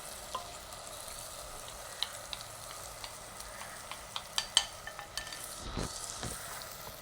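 Spiced prawn biryani masala with turmeric, pepper, cumin and masala powder is stirred in a frying pan, giving soft, quiet scrapes and light taps over a faint sizzle.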